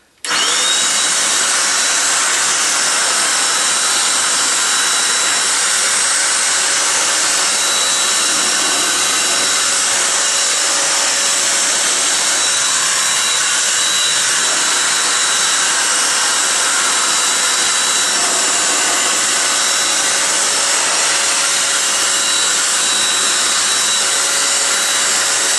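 A Metro DataVac 500 watt electric duster runs continuously at full power, a loud steady high-pitched motor whine and rushing air from start to finish with no breaks.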